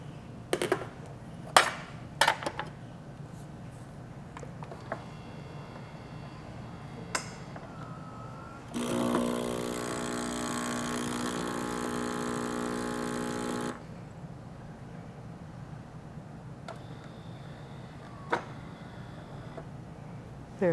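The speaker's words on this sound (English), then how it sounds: "Just like any good super auto, when we turn this thing off, it's going to give us a rinse." A Saeco Incanto super-automatic espresso machine runs its rinse cycle at shutdown: a steady pump buzz and water hiss lasting about five seconds midway, framed by scattered clicks and clunks in a quiet room.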